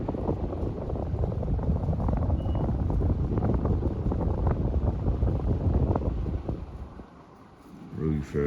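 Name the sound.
Casablanca Lady Delta ceiling fan running fast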